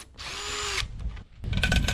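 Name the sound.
power drill drilling holes in barn kit timber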